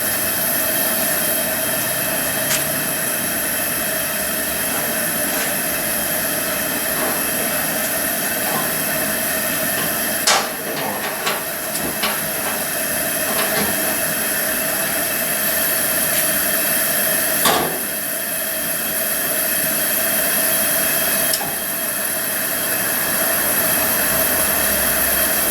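Coleman camping stove burners hiss with a steady, even roar, main burner running hotter than the satellite burner, close and continuous with a few faint clicks and knocks.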